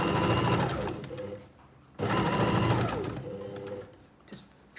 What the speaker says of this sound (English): because we're sewing through the handles as well at this stage, it's helping reinforce the handle.